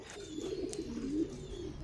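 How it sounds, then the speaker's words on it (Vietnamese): A pair of pigeons coo softly to each other in a rural loft, making low, rolling throaty calls close by, with a faint chirp in the background. "đấy cái này là chim bồ câu đang gù nhau"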